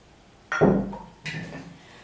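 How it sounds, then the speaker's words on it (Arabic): 500 grams of coarse salt is poured into butter for traditional Tunisian smen, heard as two close, short rushes of grains, the first louder and the second softer after a brief gap, with no voices. "انا توا باش ناخذ 500 غرام ملح احرش وباش نصبهم"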